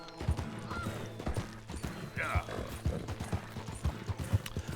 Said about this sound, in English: Poor horse.